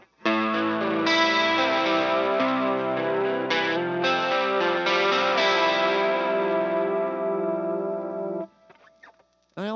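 Gibson Les Paul electric guitar played through a dotted eighth delay with a hint of reverb, steady sustained chords ringing out loud and alone for about eight seconds, then briefly fading before a final strum.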